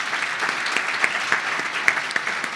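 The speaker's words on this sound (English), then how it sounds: "Please give Sarah a round of applause." Applause fills the room at a government awards ceremony for the Deputy Minister's Awards 2025, a short, steady burst of many hands clapping at close range.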